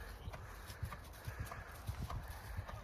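Horse hooves thud in a steady rhythmic canter on ground at home, close and fairly soft, with faint clinks of tack and no talk.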